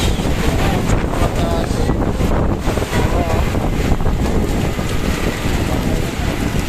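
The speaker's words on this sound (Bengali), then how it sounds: "যত রাত হতেছে তত বাতাস" Strong gusting wind roars over floodwater at night in Dhaka, with heavy, continuous wind buffeting on the microphone and a dense rushing of air and water, loud and unbroken for the whole stretch.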